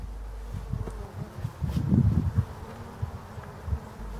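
Honeybees buzz steadily at a hive entrance narrowed with wooden wedges, a close, continuous drone that swells in the middle, with occasional louder passes of single bees near the microphone.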